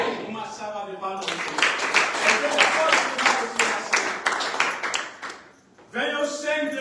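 Church congregation applauding after a Bible reading, a dense burst of many hands clapping for about five seconds before it fades, with talking resuming just after.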